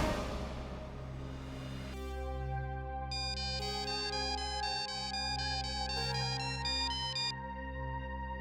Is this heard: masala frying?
no